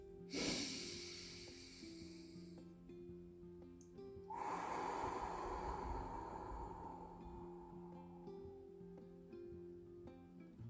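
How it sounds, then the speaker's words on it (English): Slow, deep breaths in a belly-to-chest breathing exercise: a long airy inhale, a pause, then an extended, gradually fading exhale, close and clear over a soft sustained musical drone. "Breathe in from your belly up to your chest, and then slowly exhale, sucking in your stomach as you get to the bottom, like this"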